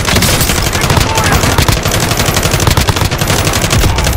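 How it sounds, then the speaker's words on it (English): Rapid automatic gunfire from the Warzone battle royale, loud and dense bursts rattling continuously throughout, with a faint voice buried underneath. "They're shooting me."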